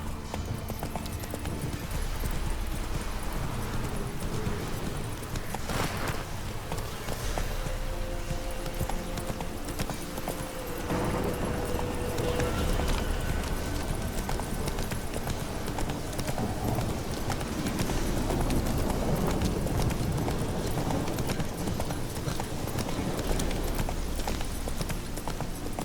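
Roach, a horse in The Witcher 3, gallops in a steady fast clip-clop rhythm of hooves that runs throughout, loud and close, layered over game music and ambience.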